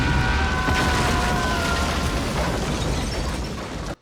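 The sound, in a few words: explosion in the film The Mask of Zorro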